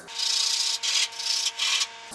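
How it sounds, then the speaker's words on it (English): Sandpaper rubbing rough burrs off the edges of a wooden piece for a recycled metal-and-wood wall desk, three or four close, quick scratchy strokes with short pauses between them. "Then just take a little piece of sandpaper, cuff up the edges, get any of these rough burrs off it."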